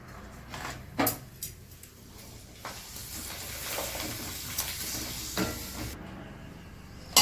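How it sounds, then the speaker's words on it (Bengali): Papad frying in hot oil in a home kitchen gives a steady close sizzle, with a few sharper crackles and pops rising above the hiss, and no voices. "এখন পাঁপড়টাকে ভেজে নিই।"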